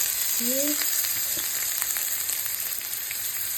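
Cumin seeds crackle in hot oil with ginger and garlic, a dense, steady sizzle dotted with quick pops and spits, close and loud, with a short hum-like tone early on.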